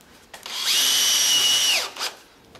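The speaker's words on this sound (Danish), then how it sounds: "Og der bruger jeg lige en selvskærende skrue." A power drill drives a self-tapping screw into roof flashing, a single close whining burst that rises, holds steady for about a second and winds down, bracketed by short clicks.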